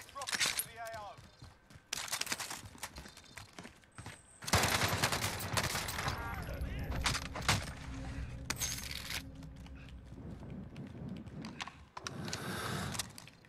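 Shotgun blasts and other gunfire in the online shooter Call of Duty: Warzone, loud sharp bursts recurring throughout, with players talking over the combat noise.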